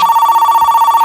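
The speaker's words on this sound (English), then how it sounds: "We get ready to head out when we get a phone call." A telephone rings loudly and continuously in a horror video game, a steady electronic bell trill with rapid regular pulsing, close and alone with no voices.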